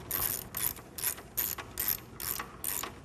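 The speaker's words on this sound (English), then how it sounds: "Tighten the bolts for the caliper." A ratchet tightening the brake caliper bolts on a motorcycle, producing about six quick, evenly spaced clicking strokes, close and fairly quiet, with no voices.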